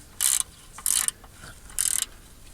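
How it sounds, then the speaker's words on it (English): An odd misfire in a classic Chevy engine gives three loud, hard clunking knocks at an uneven spacing. They sound close up and stand alone with no talk. "that would be why we were hearing that clunking sound"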